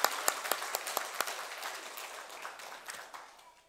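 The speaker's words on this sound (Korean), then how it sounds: "다시 한번 하나님 앞에 영광의 박수를 돌리겠습니다" A church congregation applauds in praise, a fairly soft, scattered patter of clapping with a few sharper claps at the start that gradually thins out over a few seconds.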